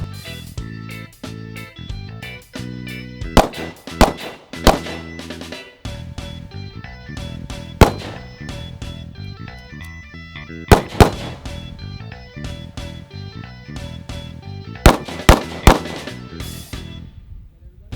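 Handgun shots crack out at a tactical shooting range during defensive pistol training, sharp loud reports in irregular clusters of one to three over a continuous music bed.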